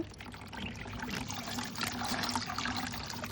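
Water draining and trickling through a net bag of soaked fertilizer, a soft, close, steady pouring and dribbling sound without talk.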